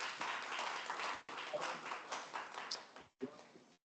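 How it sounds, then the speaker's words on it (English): An audience at a talk on multiplayer games gives a round of applause, a faint, dense patter of clapping with brief dips and a short pause near the end, heard from a distance with no voices over it. "So give him a round of applause."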